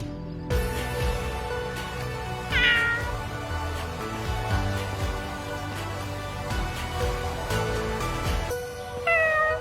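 A cat meows in short rising calls, a clear meow near the middle and another at the end, heard against a steady layer of background music.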